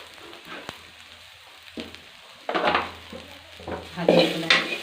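Chilli and turmeric frying in a pan, with soft sizzling and intermittent scraping and stirring clatter from a spoon against the pan, growing louder toward the end.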